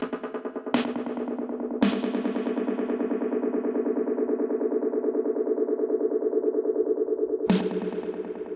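Sharp synth stabs ring out into a long, dense delay tail, echoes repeating and smearing together, with a few new hits cutting in.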